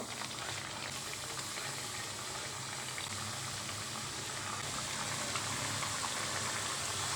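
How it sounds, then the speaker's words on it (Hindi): Bajra (millet) tikki frying in moderately hot ghee, a dense continuous bubbling sizzle that stays even and fairly quiet from start to finish. "मैं डाल रही हूँ फ्राई करने में"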